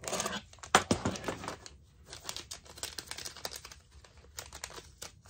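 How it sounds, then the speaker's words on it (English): A pocket knife slices open product packaging for a new USB-C radio board, giving close crinkly tearing and scraping bursts, loudest near the start and then quieter intermittent rustles. "let me get a knife out of my pocket here real quick. I'll just cut the packaging on this dude."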